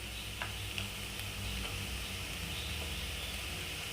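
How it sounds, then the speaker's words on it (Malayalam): Onion, ginger and garlic sizzle steadily in a pan as spice powders go in for a Kerala-style egg roast, a dense continuous frying hiss with a few faint stirring ticks and no talk. "സവാളയും ഇഞ്ചിയും വെളുത്തുള്ളിയൊക്കെ നന്നായിട്ട് വഴറ്റിയെടുത്തിട്ടുണ്ട് ഇനി നമുക്കിതിലേക്ക് പൊടികൾ ഇട്ട് കൊടുക്കാം"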